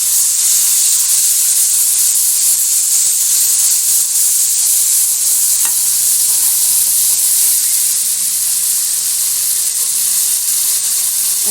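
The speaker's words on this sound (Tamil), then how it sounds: "வெங்காயத்தை போட்டு வதக்கிக்கலாம்." Sliced onions sautéing in a hot pan with ginger and garlic, a loud continuous hissing sizzle close up, steady throughout with one brief faint tap.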